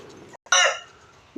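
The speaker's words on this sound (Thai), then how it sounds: "ทั้งนกทั้งไก่ขันกุ๊กกิ๊ก" A rooster crows once, loud and close, in a rural Thai village in Lampang province on a winter day, a short harsh call over a quiet background.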